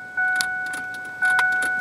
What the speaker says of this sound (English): You go to try to start the car again